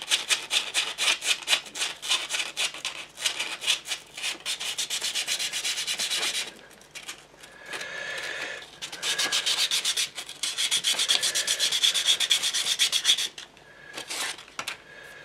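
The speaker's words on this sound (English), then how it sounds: "I have some really fine sanding paper, so just rub it over with that a few times." Fine sandpaper rubbed back and forth over wood in repeated strokes, close and fairly loud, with brief pauses between passes.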